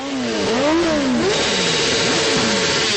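Motorcycle engines rev loudly and closely in overlapping swells, rising and falling in pitch as several bikes throttle up together during a Santa Claus ride.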